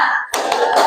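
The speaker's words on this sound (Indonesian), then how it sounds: "Tepuk semangat." A classroom of students doing a quick rhythmic spirit clap, with a few sharp, close hand-clap bursts packed into under a second.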